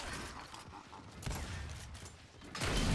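Boomshot launcher blasts in a ranked Control match of Gears 5, loud explosive bursts with mechanical clatter, the biggest hit landing near the end amid ongoing game noise.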